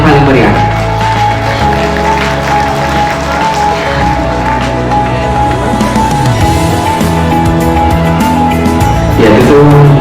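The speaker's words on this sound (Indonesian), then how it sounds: "kembali mohon beri tepuk tangan yang paling meriah" An audience at an international conference on Islamic community studies applauds loudly and steadily for about ten seconds, with music playing underneath the clapping.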